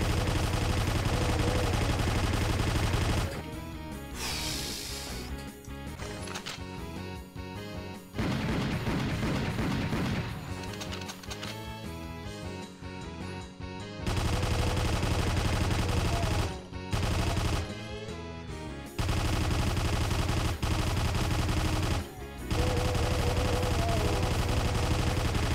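Chaingunner enemies firing machine guns in a first-person shooter, loud sustained bursts of rapid gunfire broken by short pauses and sharp impacts, dense and close throughout.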